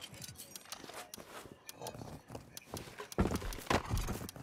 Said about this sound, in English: Grab all that shit and get on the horse, Sean.